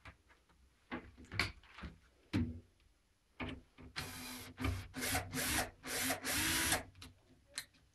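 Wooden parts are fastened with a power screwdriver during construction: scattered knocks and rubs of wood, then several loud whirring bursts of a driver turning screws, fairly close.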